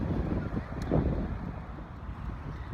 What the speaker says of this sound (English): It's a little windy out here, so hopefully you guys can still hear me even with all of the wind.